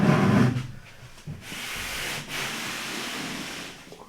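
A damp rag is wiped over bare plywood inside a boat hull before it is sealed with epoxy. The rubbing is close, with a louder scrub at the start, then softer steady wiping and short pauses.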